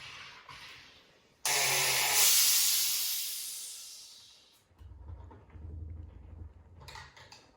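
Sparkling water being carbonated in a home kitchen: a sudden loud hiss of gas that gradually fades over a few seconds, followed by softer bubbling and rumbling, then a few brief clicks.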